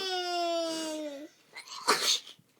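A young boy sneezes once up close: a drawn-out voiced intake, then a short, sharp, breathy burst, with no talk over it.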